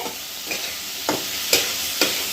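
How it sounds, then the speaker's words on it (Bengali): Paneer frying in oil in a pan, a steady sizzling hiss broken by about five regular scraping stirs, close and without talk. "পনিরটা ভালো করে কষা হয়ে গেছে।"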